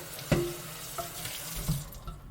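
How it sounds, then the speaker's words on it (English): Water runs from a kitchen tap over food being rinsed in a strainer, giving a steady wash of splashing with a few louder clunks and knocks from the strainer, no talk. "I rinse things off. In the same concept, it's a strainer."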